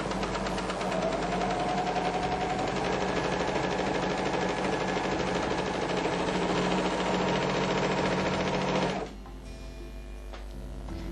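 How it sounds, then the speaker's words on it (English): A MerrylocK 3000CL overlocker runs as it stitches fabric, a fast, even mechanical whirr and rattle at close range that stops near the end, leaving quieter handling noise. "As you stitch, allow the fabric to just feed through."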